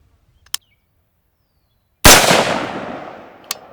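A single loud rifle shot fired at a range through a cheap scope, a sharp close crack with a long decaying tail, set between two faint small clicks before and after.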